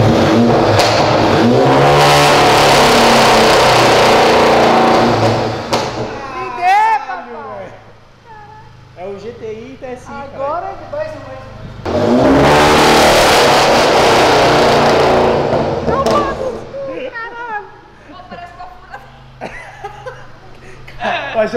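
A Volkswagen Jetta TSI with a 3-inch exhaust revs hard twice in long, loud, raspy bursts, with rougher idling and crackles in between. People talk throughout.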